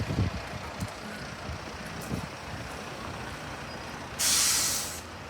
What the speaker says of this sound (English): Here is another City Lines 24 Volvo B9TL right eclipse Gemini arriving on the 24 service from Ashton Vale.